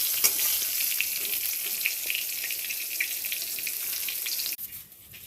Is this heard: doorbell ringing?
no